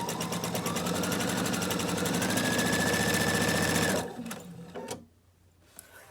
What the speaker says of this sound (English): now we just keep sewing down the other side